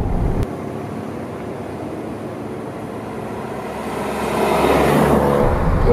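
A Ford Fiesta Titanium fitted with an ST kit is driven at 80 km/h. A continuous rumble of road and engine noise fills the cabin, swelling a little louder toward the end, with no talking.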